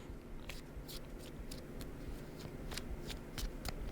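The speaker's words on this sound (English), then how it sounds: "So the main deck has been shuffled" Main deck of cards for the Shards of Infinity deck-building game being riffle-shuffled by hand, a quick series of close crisp riffles and flutters repeating at a steady pace with no talking.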